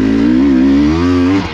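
An enduro motorcycle labours over rocky ground on a hard enduro trail, its engine loud and close in a sustained low drone that wavers slightly in pitch before cutting off abruptly.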